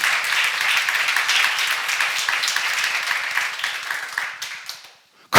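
A church congregation at a seminar claps together in a loud, sustained round of applause that holds steady for several seconds before fading out to silence.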